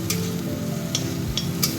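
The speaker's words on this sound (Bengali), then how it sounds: "এখানে আমি ক্যাপসিকাম, টমেটো, আদা, লঙ্কা সব দিয়ে ভাজাভাজি করছি।" Capsicum, tomato, ginger and green chilli frying together in a pan, a continuous close sizzle with a few sharp stirring taps, no voices.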